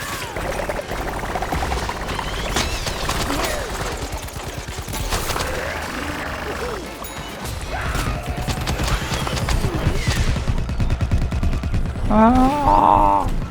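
Rapid video game gunfire crackles in dense bursts through a busy, continuous mix of game effects, with a player's voice talking over parts of it.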